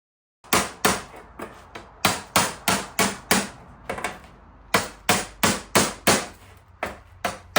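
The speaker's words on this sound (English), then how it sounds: "I then tipped the edge with a bead roller and finished it off with a hammer and dolly." A hammer and dolly shape sheet metal on the body of a Chevy G20 van, with sharp, loud metallic blows struck in quick irregular bursts and short pauses between groups.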